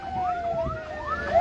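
An ambulance siren wails at the scene of a serious road accident between three cars on a road near Khouribga, Morocco. Rising and falling sweeps repeat quickly, loud and close, over a low background rumble.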